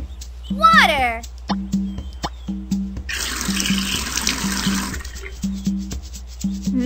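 Bubbly splashing water sound effect from a Nick Jr. browser game, a steady gush lasting a couple of seconds over repeating bouncy game music, with a cartoon voice chirping and other game tones around it.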